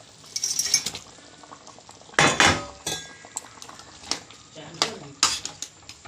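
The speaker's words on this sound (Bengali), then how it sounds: "এবার মাছগুলো দিয়ে দেব।" Fish goes into a pot of boiling water and is stirred, giving close clinks of utensil on metal pot, splashes and scraping clatters in irregular bursts, with no talk.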